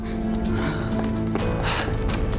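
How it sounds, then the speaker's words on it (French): A man gasps and snorts for air in short, strained bursts, struggling to breathe, fairly close and without any speech over it. "Il n'arrive plus à respirer ! Il n'arrête pas de tousser !"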